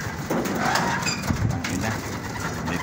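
Pigeons cooing in a loft during late breeding season, soft repeated coos under steady background noise, fairly close.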